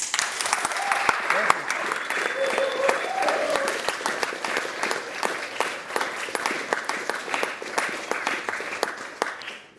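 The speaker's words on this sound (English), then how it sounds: "So final round of applause, I think" Closing round of applause from the audience at the Oxford Union after an Andrew W.K. talk, dense steady clapping from a large crowd lasting throughout and tapering at the end.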